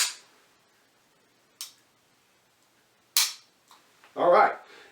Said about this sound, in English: as soon as I hear the click, I just start pressing the gun again. That's the gun resetting.